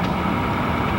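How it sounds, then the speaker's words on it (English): A 1973 Oliver 2255 tractor fitted with a Cat 3208 diesel engine runs at a vintage threshermen's show in Iowa, giving a loud, steady low rumble heard up close for about a second. "this 73 Oliver 2255, and it's got a Cat 3208 diesel engine in it"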